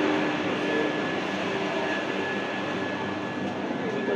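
A Vande Bharat Express train passes at Howrah station, a loud continuous rolling rumble of wheels and carriages that holds steady throughout.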